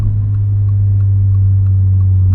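Inside a 2025 Toyota GR86 Hakone Edition cruising at steady speed, the exhaust drones as a loud, constant low hum with a steady engine tone and no talk.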